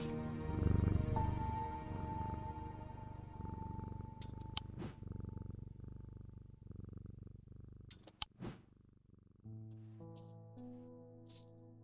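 Jupiter the cat in the video game Strange Antiquities purrs steadily while being petted, a soft continuous rumble under light game music with a few sharp clicks.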